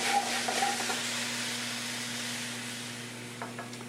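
Sautéing in a pan as Chardonnay or dry white wine is added for a beurre blanc: a soft, steady sizzle and hiss over a constant low kitchen hum, with a few faint clinks near the end.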